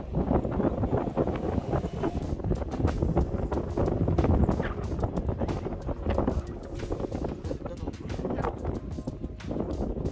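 Strong gusty wind buffets the microphone at a waterside spot with yachts and boats nearby, a loud, rough roar that never lets up while a person talks underneath it.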